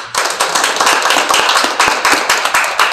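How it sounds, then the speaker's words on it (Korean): An audience claps in thanks for two guest speakers at a year-end anti-nuclear seminar, a dense, steady round of applause filling the room with many hands striking close together. "감사의 박수를 좀."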